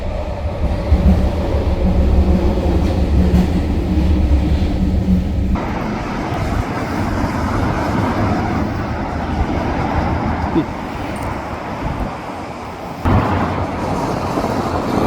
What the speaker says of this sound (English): Just checking to see if maybe the train's going to switch up, back up, and switch the cars to the other side there.